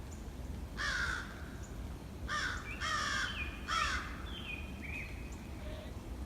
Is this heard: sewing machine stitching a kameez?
no